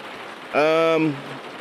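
Rain falls in the racing game Project CARS 2 as a steady, even hiss that runs the whole way through, with a short voiced sound rising briefly over it near the start.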